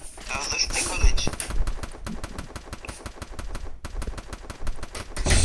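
Gunfire in the Free Fire mobile game: a long run of rapid, evenly spaced shots from automatic weapons, fairly loud and close, with voices talking over the opening seconds.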